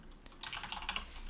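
Quick bursts of keystrokes on a computer keyboard while an email address goes into a login form, a close, light clatter of rapid taps with no voices.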